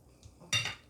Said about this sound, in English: Mash the egg up.